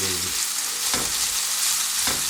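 Loud, constant sizzle of fried chicken fillets reheating in a hot pan, close and steady, with a couple of brief stirring or shifting sounds.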